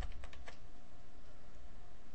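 Arrow keys on a computer keyboard tapped a couple of times in quick succession near the start, crisp close clicks that give way to a quiet hum.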